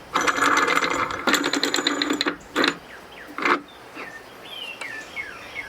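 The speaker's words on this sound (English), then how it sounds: "I like to put it into my vise." Woodworking vise being tightened on a workpiece for laying out Japanese dovetails: close, rapid ratcheting clicks in two bursts, followed by a few short knocks and faint squeaks of wood and metal.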